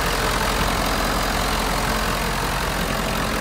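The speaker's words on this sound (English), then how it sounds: "Vehicle start right up" A 2011 Ford F-250 pickup truck engine idles steadily, a continuous low rumble held close and fairly loud throughout with no voices.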